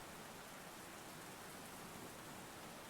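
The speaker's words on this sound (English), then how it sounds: "Rain's making me sleepy, like white noise style." Steady rain ambience plays as background during a tabletop game session, giving a faint, even, continuous hiss with no other sounds.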